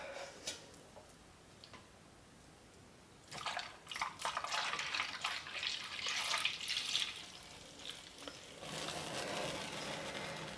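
Homemade liquid soap being poured from a container with foam coming out, a soft watery trickling with small drips and ticks that swells louder partway through and again near the end, no speech.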